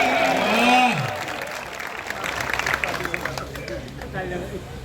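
An audience at a comic poetry gathering in Muradnagar breaks into applause and cheering, a burst of clapping and crowd noise that swells, then continues more loosely under chatter and speaking voices.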